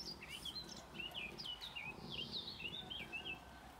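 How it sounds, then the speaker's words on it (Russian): Thrushes sing in a tree in short, repeated whistling phrases, fairly faint and a little distant, over a quiet outdoor background. "на дереве птицы поселились. Дрозды, по-моему"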